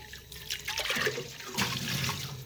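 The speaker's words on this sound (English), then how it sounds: "Go ahead and rinse that out." Water rinsing out a burnt stainless steel pot, a close splashing and swirling rush of running water that surges twice over a few seconds.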